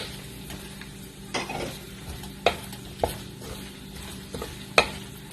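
Onion added to garlic sautéing in a pan, a low steady sizzle punctuated by several sharp clicks and scrapes of a utensil stirring against the pan, close up.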